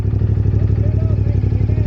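A CF Moto 450 MT motorcycle engine putters steadily and loudly nearby on an offroad single track, its low rapid pulsing continuous throughout.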